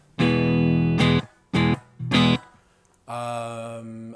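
Electric guitar played through a NUX MG-30 amp model with reverb switched off, giving several dry, sustained chords with harmonics and short gaps between them, ending on a longer held chord.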